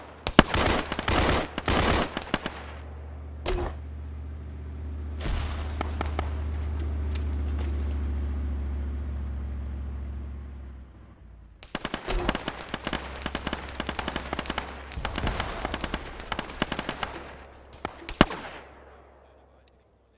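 Video game gunfire in a tank-and-bunker battle, with dense bursts of rapid automatic shots in the opening seconds, a lull carrying a low engine rumble, then more clustered volleys of fire, loud and close.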